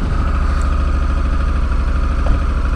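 A Honda Africa Twin motorcycle in gravel mode runs at a steady low engine note, close and continuous, with an even pulsing throb and no talk.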